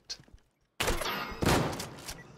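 Gunfire in the survival shooter Deadside: after faint scattered clicks, a loud, sustained volley of rapid shots erupts with a sharper peak midway, near and harsh.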